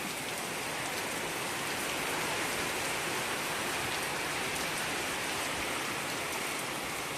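Steady rain pours down evenly throughout, a dense continuous hiss of drops on surfaces with no voices.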